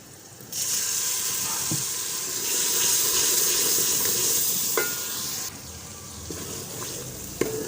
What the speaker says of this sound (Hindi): मसाला हमारा तकरीबन फ्राई हो गया।